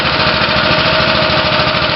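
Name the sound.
go-kart engine warming up at a karting track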